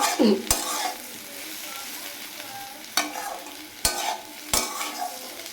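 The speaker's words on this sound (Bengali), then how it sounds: "আজকে আমি পেঁয়াজ দিয়ে আলু ভাজা করছি" Potatoes and onion fry with a steady sizzle in a pan, broken by a few sharp scrapes and knocks as they are stirred, close and clear with no talking.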